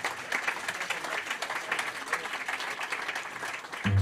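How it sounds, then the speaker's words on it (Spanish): Warm applause from a jazz concert audience, a steady wash of clapping at moderate volume with some crowd murmur, ending in a brief low thump. "a los cuales les pido un fuerte aplauso"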